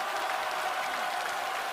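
A large studio audience at the 2022 CCTV Spring Festival Gala applauds and cheers during a magic act, a dense, steady wash of clapping with no break.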